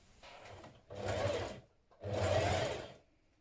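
Domestic sewing machine top-stitching around the neckline facing of a tunic: two short bursts of fast, even whirring stitches separated by a brief pause, close and clear.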